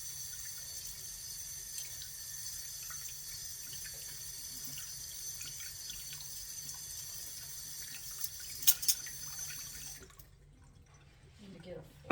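Cold water runs steadily from a kitchen tap into a sink, a faint, even hiss with a few brief clatters near the end before the flow stops and the room falls quiet.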